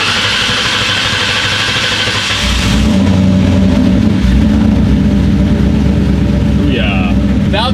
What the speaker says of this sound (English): So we're gonna let her run for just a second, warm up, see how she idles down